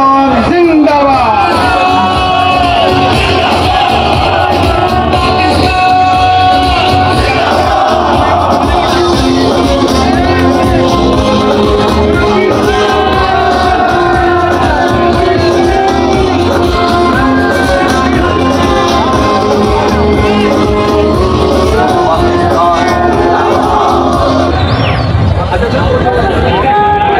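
Street crowd in Multan rallying in solidarity with the Pakistan Army, a loud continuous roar of many voices with shouting and slogans carrying on without pause across the whole stretch.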